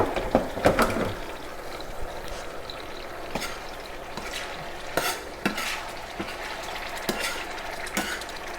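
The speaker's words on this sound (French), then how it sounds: "Il faut bien mélanger notre sauce." Crushed tomato is stirred into sautéed onions for a sauce, with repeated scraping stirs and clinks of a utensil against the pan over a soft background sizzle, heard alone.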